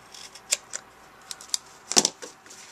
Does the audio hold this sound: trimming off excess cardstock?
yes